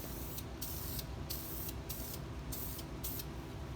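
A spray paint can lays light coats onto a car in a continuous close hiss, with rhythmic breaks as each pass ends. There is no speech.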